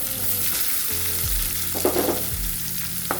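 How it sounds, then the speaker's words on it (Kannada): Onions frying in a pan with crushed garlic for bhindi masala, a continuous close sizzle with a few stirring scrapes of a spatula and no talk. "ಉಳ್ಳಾಗಡ್ಡಿ ಹಾಕೊಂಡು ಎಲ್ಲ ಹುರ್ಕೊತೀನಿ"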